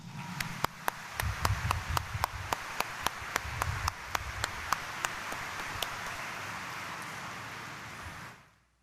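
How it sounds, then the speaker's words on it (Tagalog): A congregation at a Quiapo Church mass claps in a burst of sharp, scattered hand claps that thins out and fades to a soft wash of applause before stopping, heard without talk. "pwede ba iparinig natin uli sa mahal na Senyor ang mas malakas nating palakpak?"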